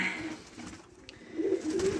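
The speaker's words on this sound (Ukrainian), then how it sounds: "Що голуби? Що голуби?" Pigeons coo softly nearby, low throaty calls rising and falling over quiet background rustling.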